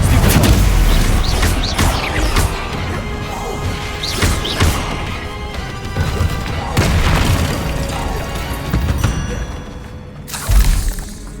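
Confringo explosive spells go off in Hogwarts Legacy combat as a series of loud, heavy booms and crashing impacts, spaced irregularly across the stretch, with a final blast near the end.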